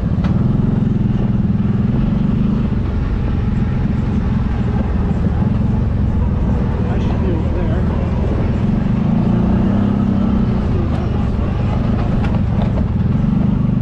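An ATV in four-wheel drive grinds steadily over a rocky trail, a continuous loud low engine drone with rattling and scraping throughout.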